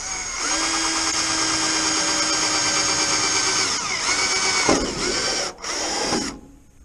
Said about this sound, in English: I'm just using my drill here and putting the little pilot holes between the 2 lines that I drew